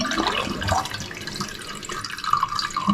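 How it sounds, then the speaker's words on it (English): Water drains out of a toilet tank while a float is being replaced, giving a close, continuous gurgling trickle with small irregular splashes and no speech. "See if we can get a little bit more of that water out."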